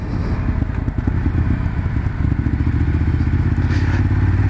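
A Ducati Monster 1200 S rides along with its engine throbbing in a steady, loud, low-pitched pulse, with wind buffeting and occasional clatter over the ride and no talking.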